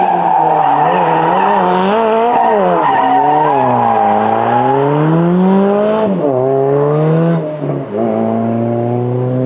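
A drift car slides sideways on a track with long, loud, continuous tire squeal that wavers in pitch as it slides, with engine noise underneath and no pauses.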